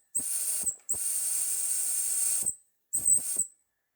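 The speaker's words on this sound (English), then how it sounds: "But before I run out of steam, here's some whistle." Whistle on a Mamod toy steam traction engine, three shrill hissing blasts: a short one, a longer sustained one and a brief final toot, close and loud with silence between.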